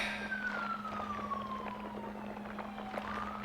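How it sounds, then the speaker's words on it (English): An ambulance siren in the Planet Zoo video game wails on a slowly falling tone, moderately distant. It sits over a steady low hum and faint traffic noise. "Ambulance can't quite get through traffic"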